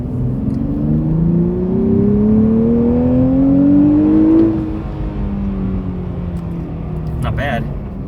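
Nissan Z Performance sports car engine climbing in pitch as it accelerates, then dropping off abruptly after a few seconds to a quieter cruise; a short voice comes near the end.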